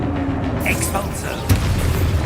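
An Expulso explosion spell goes off in Hogwarts Legacy, a single punchy boom amid swirling magical whooshes and a dense game soundscape, with a voice present.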